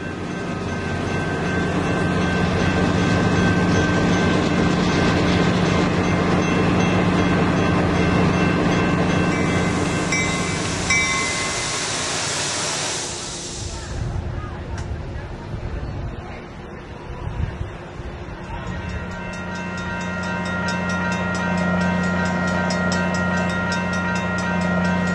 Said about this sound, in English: The locomotive doesn't quite completely clear the East Weber Street crossing as it comes to a stop.